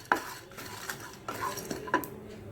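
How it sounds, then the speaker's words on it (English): Ingredients roast in a dry pan over a low flame, heard as a quiet run of metallic clinks and scrapes from a spoon stirring against the pan, with only a soft sizzle beneath. "So on a low flame, start roasting this."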